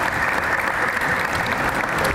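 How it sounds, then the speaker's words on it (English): An audience at a panel discussion claps steadily, a dense wash of applause that holds at an even level throughout, with no voices standing out. "Can we give a nice round of applause to the panelists"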